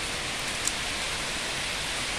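Heavy rain pours down in Ceará, heard from shelter inside an old abandoned house: a dense, steady hiss that stays constant throughout, with no voices.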